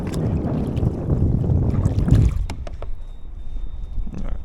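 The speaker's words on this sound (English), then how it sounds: "The wind's here." Wind blows across the water around a small fishing boat, rumbling loudly against the microphone before easing off, with a few light knocks and rustles close by.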